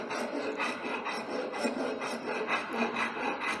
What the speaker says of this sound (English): Crossly and straightly we'll be using the rasp file.